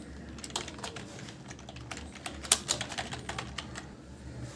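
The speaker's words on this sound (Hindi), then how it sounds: "तो कॉलोनी टाइप कर लेते हैं यहाँ पे हम" Someone types on a computer keyboard up close, a quick run of light clicks in uneven bursts with a few sharper taps, all fairly quiet and with no talk.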